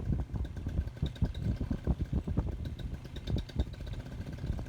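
A rebuilt paramotor engine running at quarter throttle outdoors, a steady, fairly loud buzzing drone with a rapid clattering pulse and a faint whine above it.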